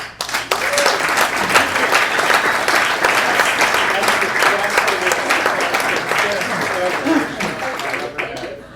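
A large audience claps loudly and steadily at a public talk to welcome Robert David Steele. The dense, sustained applause runs for nearly nine seconds and fades at the very end.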